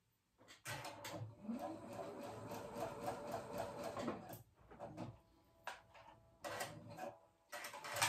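A sewing machine stitches up the side of a shawl collar sweater, running in a fast steady whir for several seconds, then in shorter stop-start bursts, quiet and close.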